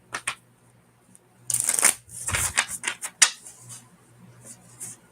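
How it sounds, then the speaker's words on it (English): A deck of game cards riffles and shuffles close up in a few crisp bursts, with soft handling rustles between them and no talk. "I do love how this deck shuffles."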